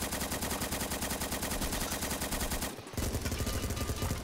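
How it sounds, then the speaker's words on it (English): Sustained automatic gunfire aimed at the spawn area in a Roblox team shooter, a dense rapid stream of shots that breaks off briefly and then resumes, loud and close. "I'm gonna shoot at spawn."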